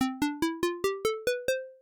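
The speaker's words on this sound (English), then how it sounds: "I've got this operator track that has a nice plucky kind of synth sound on it that sounds like this" Plucky synth tone from Ableton Operator, eight evenly spaced bright notes with a sharp attack and quick decay, stepping slowly upward in pitch, then a final sustained note fading out, clear and alone.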